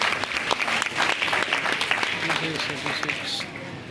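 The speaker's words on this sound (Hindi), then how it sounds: "जोरदार तालियां इनके लिए।" Audience applause at a teacher-training institute's annual day celebration, a dense burst of clapping held at an even level before tapering toward the end, with some voices mixed in.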